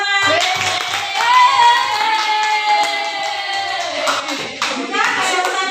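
Hands clap together in a classroom as students applaud a correct answer during a lesson, steady clapping lasting several seconds while a voice speaks over it.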